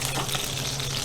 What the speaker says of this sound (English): So the whole purpose here is just to kind of heat it up and to get the skin good and seared.